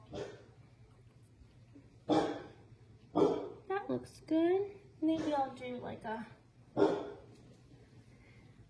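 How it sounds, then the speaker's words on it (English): A dog in a home kitchen barks several times, short loud yelps mixed with a person talking nearby, the barks standing out sharply between stretches of speech. "Oh, sorry, it's my dog."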